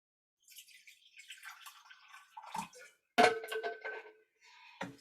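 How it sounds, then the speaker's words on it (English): Warm water poured into a dish in a kitchen, with scattered splashy trickles and a sharper clink of dish against pour, close and fairly quiet, with no talking. "in this other dish here, I'm going to add some warm water"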